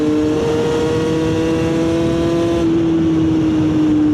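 A heavily loaded moped engine drones steadily at close range on a mountain climb, its pitch sagging slightly as it labours, with a brief shift in tone partway through.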